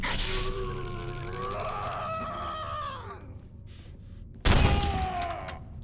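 A single sharp gunshot in the dark survival horror game Condemned: Criminal Origins, fired at an enemy, cracking out loud and close after several seconds of tonal, honking ambient sound, with a decaying tail.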